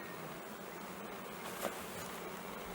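Honeybees buzzing in an opened beehive, a faint, even drone holding steady throughout with one brief louder pass near the middle, heard alone without voices.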